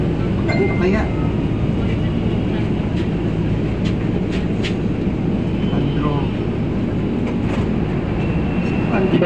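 A metro train rumbles steadily with a constant low roar near a station, while a voice speaks over it.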